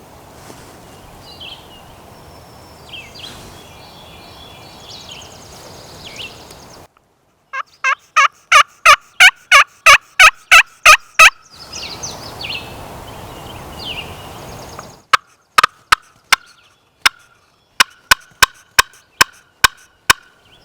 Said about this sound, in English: He gobbled twice.